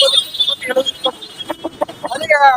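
Chickens and roosters at the Kunnathur goat market in Tirupur cluck and squawk close by in rapid, overlapping bursts, with a crowing-like call rising at the end amid market bustle.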